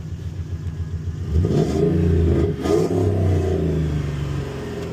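A 2012 Chevrolet Silverado 5.3 V8 starts and runs after a fuel-pump priming fault is fixed, a loud, close engine rising in a rev before settling into a steady idle, with no talk.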